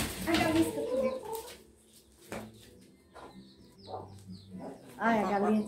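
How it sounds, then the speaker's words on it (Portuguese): A free-range hen clucks in short bursts close by, with people talking over and between the calls. "a galinha tinha escapulida e eu corri e peguei ela, mas a Mirela."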